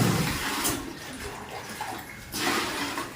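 Water pours and splashes steadily into a bucket, easing off midway and then surging louder again.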